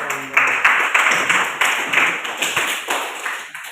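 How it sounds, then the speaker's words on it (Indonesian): An audience of teachers and students claps for a teacher at a school gathering, giving a moderately loud burst of uneven hand claps that gradually thins out. "kita beri tepuk tangan untuk Pak Iki"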